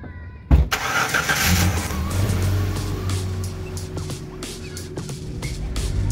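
A Jeep ZJ fitted with new PowerStop Evolution brake pads and rotors starts up and idles, a sharp start followed by a steady close engine hum with faint clicks.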